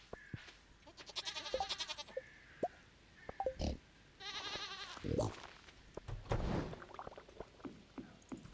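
Goats in the farming video game Stardew Valley bleat repeatedly in short, nasal, wavering calls that come in clusters, fairly close and over quiet background ambience.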